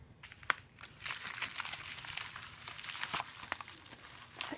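Packaging for Chanyeol photo cards crinkles and crunches steadily as it is unwrapped, close and moderately loud, with a few sharper crackles and brief pauses and no talking.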